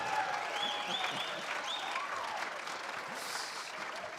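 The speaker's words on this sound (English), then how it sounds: "give me a round of applause" Applause from a school cabaret audience follows a performer's song, moderately quiet and steady, with a few faint tonal sounds and murmuring voices mixed in.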